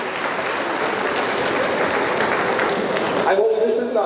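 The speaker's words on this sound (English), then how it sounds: "Round of applause for the mayor" A gala crowd at a Jamaica 60 Diamond Jubilee event applauds the mayor with loud, dense clapping that holds steady and then thins out near the end as a voice begins talking.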